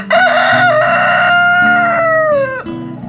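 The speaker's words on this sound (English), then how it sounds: "So the roosters are in competition on who's going to crow the loudest" Backyard roosters near fall garden beds crow loudly and close, one long drawn-out cock-a-doodle-doo with others overlapping as they compete, the call sliding down at the end.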